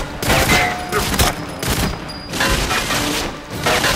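Gunfire in Goldeneye 007 on Wii, loud close bursts of rapid automatic shots in repeated volleys with short gaps between them.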